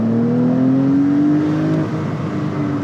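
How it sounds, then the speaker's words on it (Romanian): A Porsche 911 Carrera T engine drones steadily as heard through a slightly open car window, a smooth rising tone climbing under acceleration, loud and close with no talking. "fiți atenți aici cum se aude motorașul ăsta cu geamul un pic deschis"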